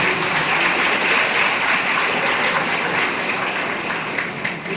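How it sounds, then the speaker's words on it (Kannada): Sustained applause from a crowd at a protest gathering, dense and steady throughout, fading slightly near the end. "ಚಪ್ಪಾಳೆ"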